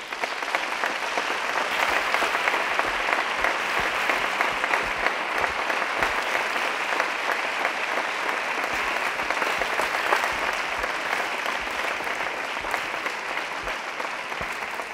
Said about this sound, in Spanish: pido un fuerte aplauso para ellos